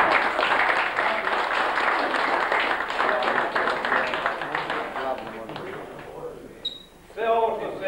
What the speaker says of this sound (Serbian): Jedan aplauz za Vladu.